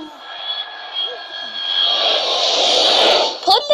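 Cartoonish fighter jet engine in a children's car-building game, a rising whine that swells into a loud roaring rush before cutting off, with short bright game tones and a voice briefly at the start and end.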